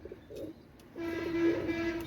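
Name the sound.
pigeons cooing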